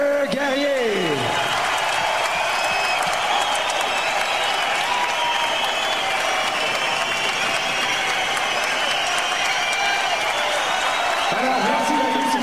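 A boxing arena crowd gives sustained applause for two fighters before the verdict, a loud, unbroken roar of clapping and cheers lasting several seconds, with an announcer's voice briefly heard at the start and end.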